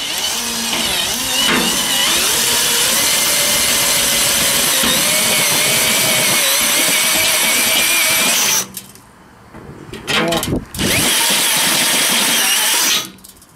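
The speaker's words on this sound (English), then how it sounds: "I'll show you how I did it with the drill bit. Drill bit goes in," Power drill boring a hole with a step drill bit during a computer case mod, a loud continuous whine with shifting pitch that cuts out around eight seconds, resumes briefly, then runs again before stopping.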